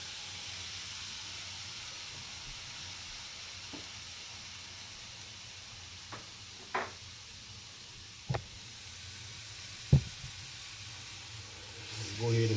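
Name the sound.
hamburger meat sizzling in a pan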